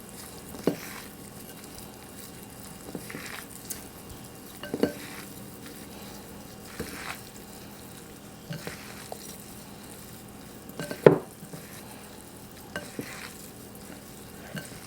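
Tofu and lettuce salad with roasted perilla seeds tossed gently in a bowl, with soft, sparse rustling and a few light utensil taps and knocks, quiet and close.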